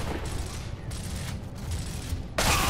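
Distant, repeated gunfire from rifles in Gears of War co-op play, a few muffled bursts followed by a louder, close volley at the end.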